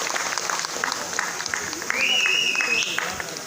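Audience applause at a Kempegowda Jayanti celebration, a sustained wash of clapping from a crowd that swells near the end, with a brief tonal whistle or feedback line partway through.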